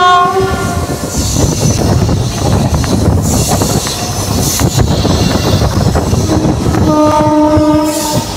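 Satluz Express, an ICF passenger train, running on the Chandigarh branch line from New Morinda toward Mohali, with a steady loud rumble and wheel noise throughout and repeated horn blasts near the start and end.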